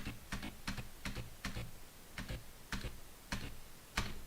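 Computer keyboard keys clack in quick irregular clusters while someone plays King of Fighters XI, close and crisp against a quiet background, with short pauses between groups of presses.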